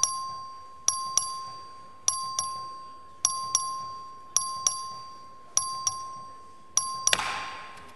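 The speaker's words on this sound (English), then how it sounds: "The clerk will please ring the bell." Voting bell in the Texas House chamber, rung by the clerk for a record vote: a series of clear two-tone ding-dong chimes repeating at a steady pace, each ringing out and decaying, ending in a brief burst of overlapping tones.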